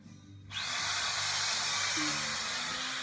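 A power screw gun kicks on after a brief quiet stretch of low hum and runs at a steady, loud, high-pitched whine while driving screws into a drywall ceiling during a basement finishing job.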